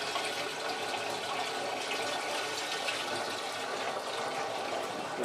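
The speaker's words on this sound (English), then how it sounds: "Now we're just going to add some good clean water." Clean water poured into a still for making gin, a steady close rushing gush of liquid that fills continuously with an even, loud level and no talk over it.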